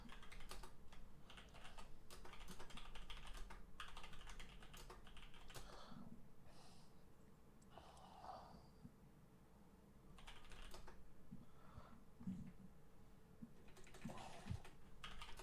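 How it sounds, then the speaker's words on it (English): Quiet typing on a computer keyboard, a steady run of light key clicks close by, broken by short pauses, with no talking over it. "I'm just typing out."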